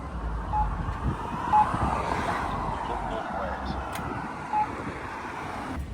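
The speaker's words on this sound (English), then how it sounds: "Even this beeping gives me anxiety." A vehicle's reversing alarm gives a few short, spaced beeps over a steady wash of engine and traffic noise outdoors.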